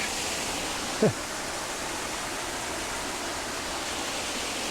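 Constant rushing water from a half-frozen waterfall, heard from beneath a bridge, roars evenly, a dense hiss of falling water with one brief faint sound near the start.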